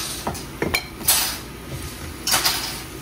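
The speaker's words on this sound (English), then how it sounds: "I'm just gonna lay them in the pan." Cooked pork chops laid into a crock pot, with a few scattered clinks and scrapes of metal cookware and utensils, close and distinct, with no talking.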